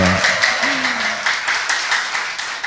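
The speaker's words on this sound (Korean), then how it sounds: "박수 다시 한번 주십시오" Audience applause welcomes the poet Mun Tae-jun at a poetry reading: a steady, dense patter of many hands clapping, fairly loud and close, with a brief voice near the start.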